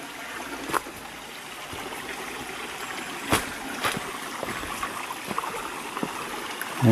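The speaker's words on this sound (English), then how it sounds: "And a very clear and pleasant little stream it is." A clear, small creek in the Blue Mountains near Blackheath, flowing as a steady soft trickle and burble with a few brief splashes, heard close up with no one speaking.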